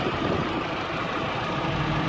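2009 Toyota Innova 2.0 petrol engine with manual gearbox idling smoothly, a steady, even mid-pitched hum heard close and alone for about two seconds.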